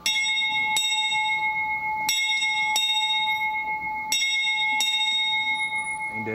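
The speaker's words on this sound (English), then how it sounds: "A bell that Walt Disney himself used to ring, part of the Rainbow Caverns mine train." A metal bell from the Rainbow Caverns mine train at Disneyland rings six times in a clear, steady rhythm. Each stroke leaves a long, bright ring that hangs in the air, and it sounds close by, with no talking.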